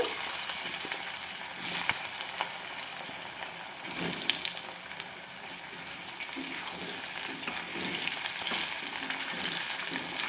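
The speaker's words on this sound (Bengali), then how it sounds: "কড়াইয়ে তেল গরম হয়ে গেছে এরপর আমি আলুগুলো প্রথমে ভেজে নেব" Potatoes frying in hot mustard oil in a wok, a dense, continuous loud sizzle with a few sharp crackles and occasional stirring, heard close with no speech.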